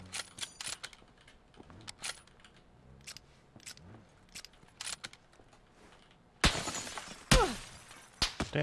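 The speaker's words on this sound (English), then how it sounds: "How is he shooting that window out?" Glass from a window shot out in PUBG shatters in a sharp, bright crash late on, after a run of light clicking and tinkling game sounds, with no talking.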